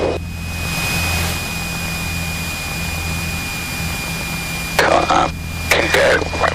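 Cessna 172 single-engine light aircraft at takeoff, its engine a steady loud drone with a constant whine, heard from inside the cabin, with a few brief crackly bursts near the end.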